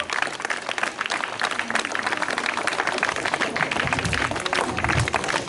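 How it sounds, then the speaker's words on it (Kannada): An audience at a Kannada Rajyotsava award function claps continuously, giving dense, lively applause for several seconds amid some crowd noise. "ಚಪ್ಪಾಳೆ ಸ್ವಲ್ಪ ಜೋರಾಗಿ ಬರ್ಬೇಕಪ್ಪ."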